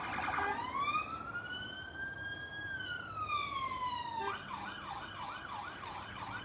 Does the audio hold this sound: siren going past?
yes